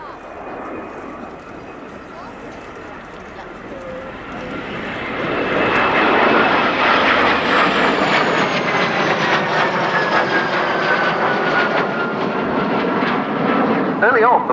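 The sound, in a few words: Morane-Saulnier MS-760 Paris jet aircraft flying past at airshow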